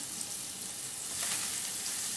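Garlic and ginger frying in a pan, a soft, steady hiss and sizzle close by with a slight swell partway through, no voices.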